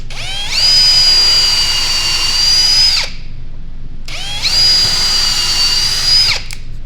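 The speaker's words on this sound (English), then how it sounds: "so I'm going to go ahead and drill all of them" Two loud, close bursts of a power drill boring into wood while building a birdhouse, each running a few seconds with a short pause between.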